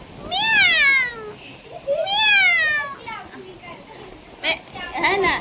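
A person imitates a cat, giving a few drawn-out meows with pauses between, followed by brief speech.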